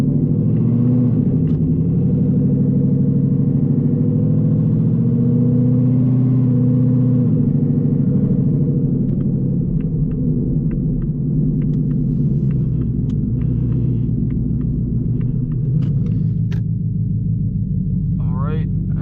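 A 900 HP S650 Mustang GT rumbles through the cabin while cruising, a low steady engine drone with mild swells and occasional light clicks and knocks, no voices heard.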